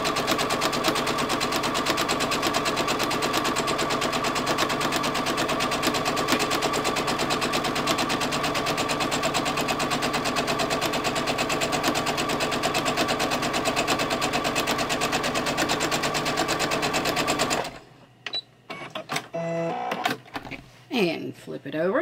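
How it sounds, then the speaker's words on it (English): A sewing machine stitching half-square-triangle quilt seams runs in a steady, loud, rapid mechanical chatter for most of the stretch, then stops abruptly and leaves a few faint handling sounds. "we're just going to sew down each of the sides"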